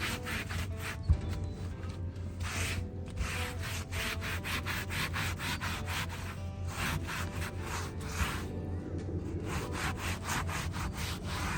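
Clear coat is scrubbed by hand into the wooden bed of a 1965 Ford truck, producing continuous rhythmic rubbing strokes, close and moderately quiet, with no voices.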